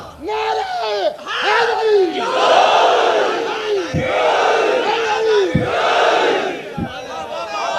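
A large religious gathering roars a takbir chant in reply, many voices shouting together loudly and close, rising in repeated swelling waves with short breaks between them.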